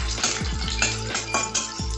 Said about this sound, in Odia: କଞ୍ଚା ଲଙ୍କା ମୁଁ ତେଲରେ ଆଗୁଆ ଦେଲି ଏଥିପାଇଁ ଛିଟି ମାନେ ଟିକେ ଛିଟକିବ